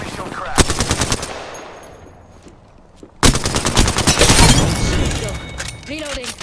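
Automatic gunfire in the Apex Legends video game, rapid bursts of loud shots in two runs separated by a short lull, with a voice speaking over the action.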